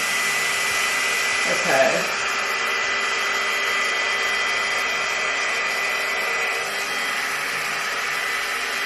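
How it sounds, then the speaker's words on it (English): A GHD Duet 2-in-1 hot air styler blows a steady, loud, whooshing whine while drying the roots of kinky 4C hair, continuous throughout with a brief spoken word near the start. "I'm just trying to dry my roots."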